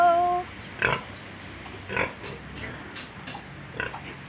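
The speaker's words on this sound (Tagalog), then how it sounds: "Yan ang biik natin ililipat doon sa kulungan." Piglets grunt in short, scattered bursts, some close and some quieter, with a brief tonal squeal at the start and low background noise between the calls.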